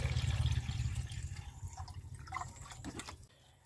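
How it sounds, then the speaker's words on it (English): Distilled water is poured into a container to make electrolyte for silver-recovery electrolysis. A steady close splashing gush fades toward the end as the pour slows and stops. "we are adding about 2000 milliliters of distilled water"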